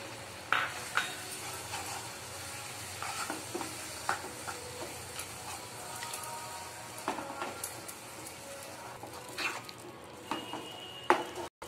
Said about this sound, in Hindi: खोया को हम अच्छे से मिला लेंगे